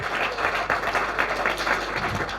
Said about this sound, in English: big round of applause for Tarran.